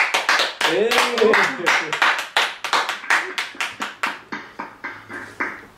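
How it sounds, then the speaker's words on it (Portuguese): An audience applauds for an honoree receiving a special linguistics award, with a burst of dense clapping that thins into scattered, evenly spaced claps, and a voice speaks over the start. "Um aplauso para a Silvia aí, gente!"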